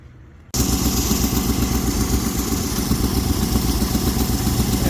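A 2015 Chevrolet Silverado 1500 4x4 with a 5.3L V8 fires up after a starter replacement, a brief quiet before the engine catches and settles into a loud, steady idle with a close mechanical clatter.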